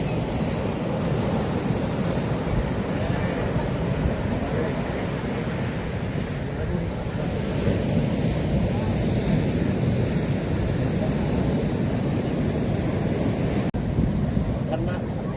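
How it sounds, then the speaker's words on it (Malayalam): Sea surf at a beach after rain, a constant broad wash of breaking waves mixed with gusty wind buffeting the microphone, steady and loud throughout with no distinct breaks. "ഞങ്ങൾ ഇപ്പോൾ കടൽ കാണാൻ വന്നത്"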